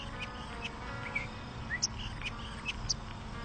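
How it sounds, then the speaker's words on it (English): A pet bird chirps indoors with a few faint, brief, high tweets scattered over a low room hum and background noise. "and now I have a bird,"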